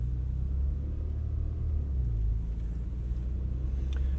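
Deep, steady engine rumble from a 2015 Porsche Macan Turbo with a twin-turbo 3.6-liter V6 of 400 horsepower, heard from inside the SUV while cruising, low and droning with no sharp revs.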